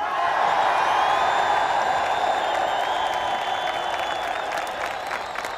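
A large crowd cheers and applauds loudly and steadily, a dense wash of clapping and shouting that eases slightly toward the end.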